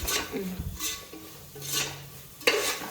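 Vegetable pulao ingredients with fresh field beans and garam masala get stir-fried in a pan, with soft sizzling under intermittent scrapes and metallic clinks of a spoon, plus one sharper knock near the end.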